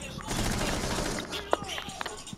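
Gunfire in Rainbow Six Siege, with a dense burst of rapid shots followed by a few scattered single cracks, while a voice talks over it.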